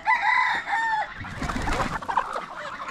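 Chickens cluck and call in a backyard flock that also holds red-legged partridge chicks. Two clear, drawn-out calls come first, then a busier jumble of clucks and scratching noises fills the rest, close and fairly loud.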